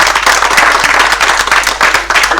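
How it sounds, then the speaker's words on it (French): Loud, close applause for award-winning students at a school writing prize ceremony, a crowd clapping briskly and continuously with distinct individual claps and no speech. "j'aimerais qu'on vous applaudisse pour cette fameuse réussite"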